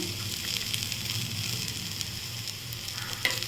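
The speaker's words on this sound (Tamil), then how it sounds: "அதையே சேர்த்து நல்லா பொன்னிறமாக வதக்கிக்கோங்க" Curry leaves and grated coconut sauté in hot oil in a pan while drumstick-leaf chutney is being made, giving a steady, close sizzle and crackle with a few brighter pops near the end.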